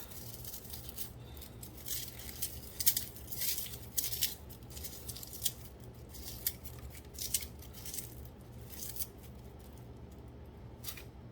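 Papery skin being peeled and rubbed off a halved head of garlic, heard as faint crisp crackles and rustles at an irregular pace, close up and without talk.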